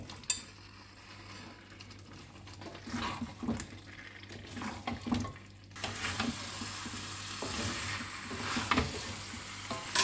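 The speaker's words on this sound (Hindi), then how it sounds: "अब इसमें सारे बॉइल्ड वेजिटेबल को हम डाल देंगे।" Boiled vegetables tipped into a pan for Bengali shukto: a quiet start with a few clinks, then thuds and splashing as they land, followed by a broader steady sizzle and stirring scrapes, close and unaccompanied by speech.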